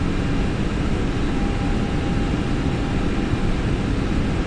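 Light airplane in a banking turn heading south, its engine and airflow a constant loud drone filling the cabin without pause or change.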